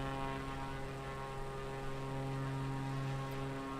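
Steady propeller aircraft engine drone from Microsoft Flight Simulator 2020, continuous and fairly loud with strong tonal hum, no voices over it.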